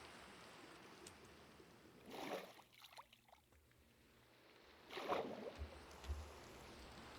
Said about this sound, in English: Okay, I have placed water here.